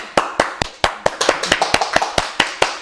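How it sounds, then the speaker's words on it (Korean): Congregation clapping at a church Bible study on Revelation, a dozen sharp, fairly steady claps from a few people nearby, loud and with no talking over them. "오, 박수."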